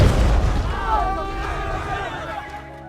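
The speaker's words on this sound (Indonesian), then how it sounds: "tiba-tiba bom meledak di samping mereka." A deep bomb explosion booms at the start and rolls away into a fading rumble, while a crowd murmurs underneath.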